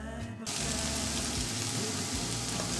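Onion and garlic sauteing in hot rice oil in a pan over high heat, a dense, steady sizzle bursting in after a brief quieter moment and holding loud and close to the end.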